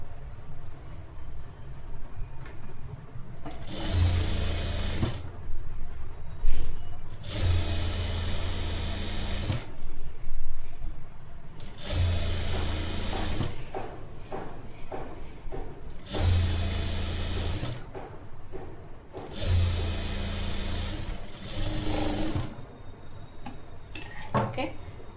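Close sewing machine stitches a blouse hem in five or six bursts of rapid, steady whirring separated by quiet pauses, with light handling clatter between runs.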